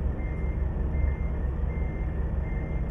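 Reversing beeps from a truck in Euro Truck Simulator 2 sound as a steady, faint high tone over a loud low engine rumble while the truck manoeuvres to load at a company yard.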